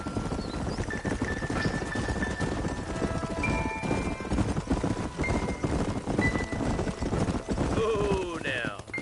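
Horses' hooves clip-clop in steady, continuous rhythm in Red Dead Redemption, with music and occasional voices running over the hoofbeats.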